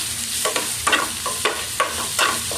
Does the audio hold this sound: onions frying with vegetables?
yes